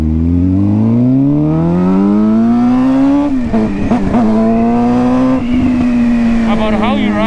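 A motorcycle lane splitting on a city street with a loud engine that climbs in pitch and holds a steady drone, mixed with wind and passing traffic as the rider speaks over it.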